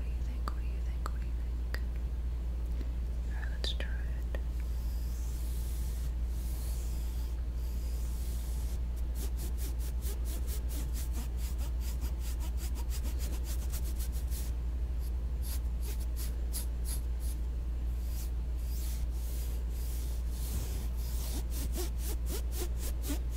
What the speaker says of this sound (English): how do you think this is going to sound when I run this brush over it?